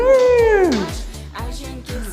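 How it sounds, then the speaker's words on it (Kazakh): A house cat gives one clear, close meow that falls in pitch, followed by softer thuds and rustles. "Мысық."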